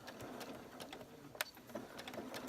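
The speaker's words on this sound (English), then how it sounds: "I take a few stitches and then I back stitch a few" A sewing machine stitches quilting fabric for a churn dash block, sewing a few stitches and then back-stitching, with a quiet, steady mechanical whir and light rhythmic ticking, faint and close, with no talking.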